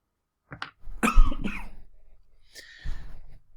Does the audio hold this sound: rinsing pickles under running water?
no